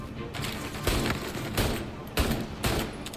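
Gunshots in Mafia Definitive Edition: a sustained, noisy barrage with several heavier thumping shots at irregular intervals, loud and close, with a voice heard faintly underneath.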